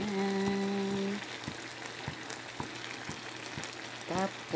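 Softened jackfruit sautés with garlic, onion and long green chili, crackling with a steady sizzle and small regular pops. A voice is heard briefly at the start and again at the end.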